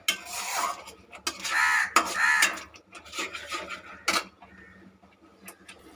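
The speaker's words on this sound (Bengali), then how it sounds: "এটাকে একটু 2-3 মিনিট মতো কষিয়ে নিতে হবে ভালো করে" Masala being stirred and scraped around a pan for Bengali chicken kosha, a spatula rasping and clinking against the metal in irregular strokes, close and fairly loud with brief pauses.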